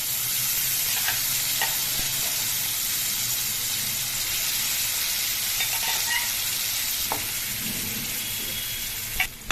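Stuffed eggplant pieces fry in a pan with dried red chilli, mustard seeds, cumin, fenugreek and turmeric for gutti vankaya curry, a steady sizzle with occasional stirring clinks and a sharp knock at the end.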